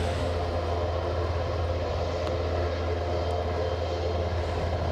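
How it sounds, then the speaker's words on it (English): A helicopter idles on the ground at Aberdeen airport, giving off a steady, droning rotor and engine hum that stays at a constant level throughout. "as you can tell from the super sounds, we've got a chopper"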